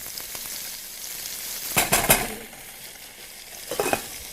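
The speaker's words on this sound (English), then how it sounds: "Give it a stir." Couscous with carrot being stirred in a pot of boiling water on the stove, a steady bubbling hiss with a few scraping stir strokes in brief bursts, close and without talk.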